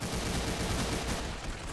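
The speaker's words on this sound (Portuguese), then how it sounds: "É tipo uma shotgun de laser." Laser shotgun blasts in the Roblox game Arsenal, a dense, loud burst of rapid firing noise that fills the whole stretch without pause, with no talking.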